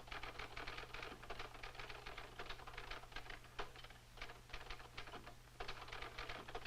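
Continuous rapid typing of a letter on a typewriter, a dense irregular patter of key strikes close by with brief pauses, no voices.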